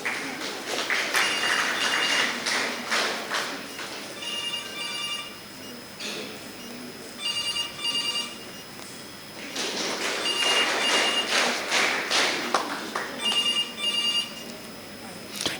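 A telephone rings in repeated bursts through a hall during a JCI Mangalore honoring ceremony, loud and insistent over a steady murmur of room noise and indistinct voices, pausing briefly between ring cycles.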